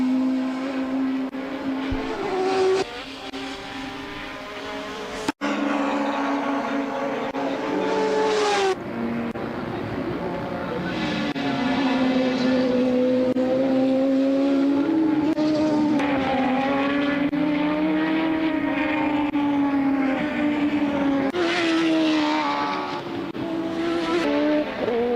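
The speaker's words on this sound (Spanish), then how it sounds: "Sonido característico de los motores turbo en esa temporada 84" Turbocharged Formula 1 engines from the 1984 Canadian Grand Prix, a loud continuous high-pitched scream with rising and falling revs as cars accelerate and pass, sustained through the whole stretch with no talk.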